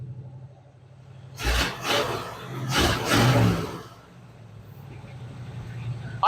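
A 1969 Ford F250 Ranger pickup's engine idles with a low hum, then surges through two or three strong revs before settling back to idle.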